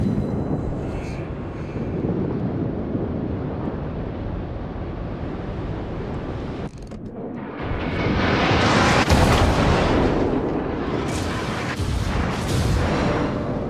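Naval artillery gunfire in World of Warships, with the battleship Dunkerque in a ranked battle against a New Mexico, sounds as a steady roar of wind and sea that erupts into loud, sustained booming salvos in the second half, with someone talking over it.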